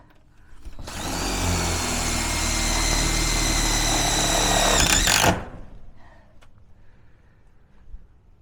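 Power drill driving a screw into a brush seal strip on a metal roll-up garage door, one loud sustained whir lasting about four seconds before cutting off abruptly, followed by quiet handling.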